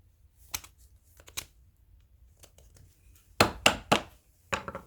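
A brush cutter's trimmer head being knocked to clear debris: scattered light taps, then a cluster of four sharp, loud hard knocks close by, and another pair at the end.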